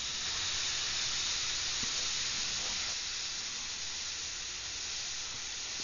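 An airbrush sprays paint in a steady, close hiss that runs unbroken, with slight variations in intensity as paint is laid down.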